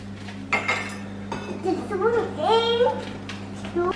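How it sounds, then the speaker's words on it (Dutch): Pots, pans and cutlery clink and clatter intermittently as two people cook in a home kitchen, with a steady appliance hum underneath and children's voices talking and babbling over it. "Niels en Sven zijn even aan het koken."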